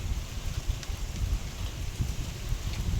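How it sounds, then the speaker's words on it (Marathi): Rain begins at midnight in Ardhapur town during a thunderstorm, with strong wind. A steady wash of falling rain and rushing gusts runs throughout, continuous and fairly even with no clear thunderclap standing out. "विजाही कडकडत आहेत आणि त्यासोबतच पावसाला सुद्धा सुरुवात झालेली आहे।"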